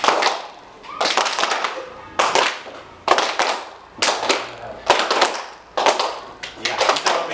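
A group of teachers claps in unison in short repeated bursts, sharp clustered claps in a steady rhythm with brief pauses between sets, loud and near in an indoor session.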